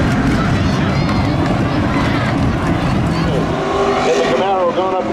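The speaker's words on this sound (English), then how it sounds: "pulls away down the back stretch into turn 3" Race cars roar loudly at a summer spectator drag racing event, their engines droning continuously under a commentator's fast talk, with rising engine pitches toward the end.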